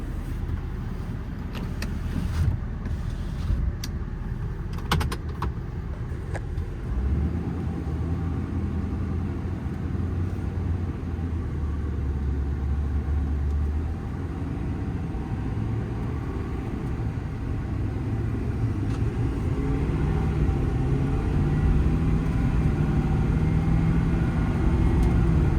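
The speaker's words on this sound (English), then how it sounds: "Truck pulls great, has plenty of power." A 2022 Ford F-550 4WD mechanics crane truck with an IMT bed and 7500 lb crane drives along, its engine a steady low rumble with road noise throughout and a few clicks and knocks early on.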